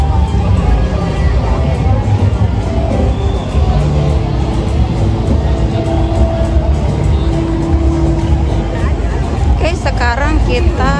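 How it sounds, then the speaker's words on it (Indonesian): Busy night street traffic in Legian, Bali, with a steady dense wash of car and motorbike engines and a murmur of crowd voices close by, and a person speaking over it. "di sini lalu lintasnya lumayan macet ya"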